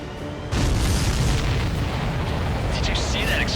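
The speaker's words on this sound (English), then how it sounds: "Did you see that explosion?" A supply ship shot down in the Ace Combat 7 flight game bursts into a loud, sudden explosion that rumbles on for several seconds, its crackling roar filling the clip.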